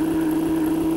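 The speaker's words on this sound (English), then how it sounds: "the only sound effect in this game is your truck's crappy sounding engine" A truck engine in the video game Big Rigs Over The Road Racing drones as a steady, buzzy, low-pitched hum with no variation, and no other sound is present.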